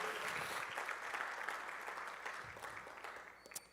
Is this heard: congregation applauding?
yes